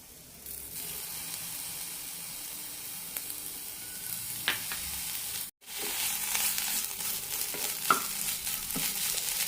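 Drumstick leaves with grated coconut and tamarind being stirred in a pan after the flame is switched off, giving a steady soft hiss with occasional spoon scrapes and clinks, one short gap midway.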